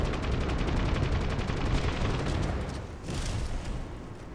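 A video game weapon firing explosive rounds lets out a fast, steady stream of crackling shots and bursts, continuous and fairly close, with no talking.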